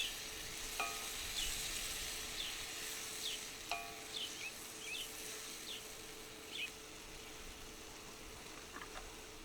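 Oil heats in a pan set on a bed of campfire coals for Indian fry bread, giving a faint, steady sizzling hiss outdoors while birds chirp now and then in the background.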